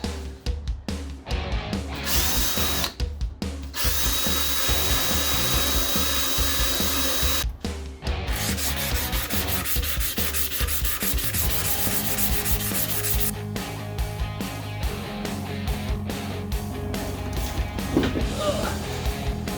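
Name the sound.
sanding a motorcycle tank with sanding block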